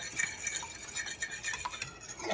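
A spoon stirring macaroni and cheese sauce seasoned with salt and pepper, quick scraping clinks against the bowl in a busy back-and-forth rhythm, close and alone.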